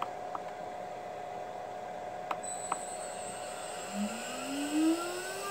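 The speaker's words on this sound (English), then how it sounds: "Turn the spindle on." A CNC spindle spinning up for trimming carbon fiber gives a steady high whine over broad hiss, with a rising tone toward the end as the motor speeds up, with a few faint clicks and no talk.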